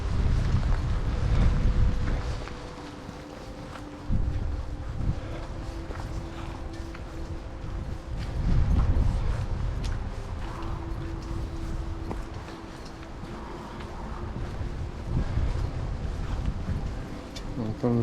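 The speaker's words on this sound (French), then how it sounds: "On entend le vent souffler." Wind blowing outdoors at Le Raunier, gusting hard against the camera microphone as a dull, swelling low roar that rises and falls in waves throughout.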